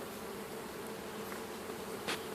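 Honeybees in a top bar hive hum in a soft, continuous drone during a springtime inspection of a growing colony, the buzz fairly faint and unbroken, with a few brief louder passes near the end.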